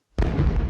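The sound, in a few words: movie-style space explosion sound effect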